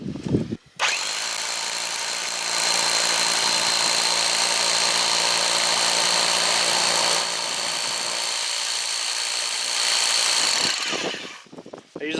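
A power drill boring holes in stone for splitting, running outdoors as one long steady loud whine for about ten seconds, with a brief start and stop at either end.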